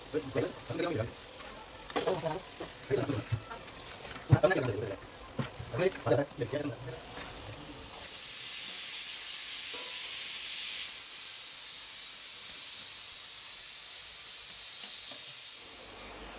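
Speech and kitchen clatter give way to a steady, loud hissing sizzle of prawns frying on a hot griddle, lasting about eight seconds.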